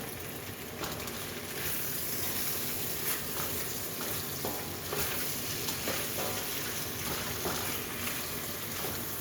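Potatoes sizzle and fry steadily in a generous bath of hot oil while being stirred around, a dense continuous crackle with occasional soft scraping knocks, no voices.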